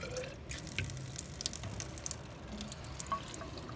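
Water drips and trickles at a density lab station, a soft scatter of irregular droplet ticks and splashes at close range, quiet and with no voices.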